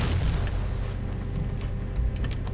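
A loud explosion in a video game, a deep sustained rumble with a burst up front that rolls on continuously, alone without talk.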